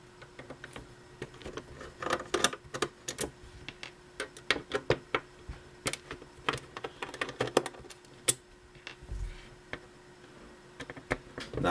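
Small screws are worked out of the underside of a Samsung SDG605 drive from an Original Xbox, giving faint, scattered clicks and ticks of a screwdriver and metal parts at close range in a quiet room.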